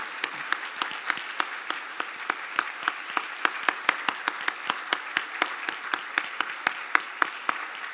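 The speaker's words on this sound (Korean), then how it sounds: "우리 함께 영광의 박수 한 번 더 뜨겁게 올려드리겠습니다" Church congregation during a Sunday service giving a round of applause, sparse rhythmic claps at a steady beat, fairly close and moderate in volume, with a faint room hum beneath.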